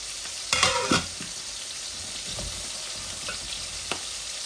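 Mixed curry of rohu fish and potato fries in a pan with no water, a steady hiss of sizzling oil broken by a few louder scraping stirs near the start.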